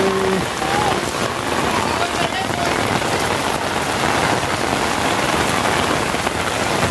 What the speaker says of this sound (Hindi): आखिरकार वो बारिश होने ही लगी है।